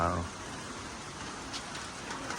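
Rain falls steadily outdoors in Thailand, a dense even hiss filling the scene, with a voice briefly audible at the start.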